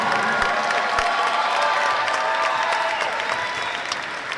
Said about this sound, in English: Give these young men a round of applause for the kind of way they perform.